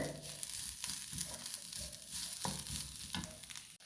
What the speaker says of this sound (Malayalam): തേങ്ങ നല്ലൊരു റെഡ് കളർ റെഡ് കളർ ആവണ വരെ നമുക്കൊന്ന് റോസ്റ്റ് ചെയ്തെടുക്കാം